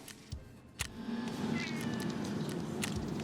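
A pet cat meows close by, with a couple of short sharp sounds early on and then a drawn-out, wavering meow that carries through the rest.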